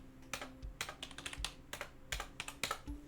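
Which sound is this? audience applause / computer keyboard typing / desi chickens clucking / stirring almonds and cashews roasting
computer keyboard typing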